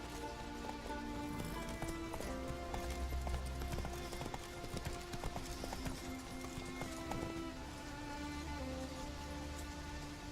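Hooves clip-clop in a rapid gallop as a horse runs in The Witcher 3, a steady rhythmic patter with ambient game sound underneath and no clear talking.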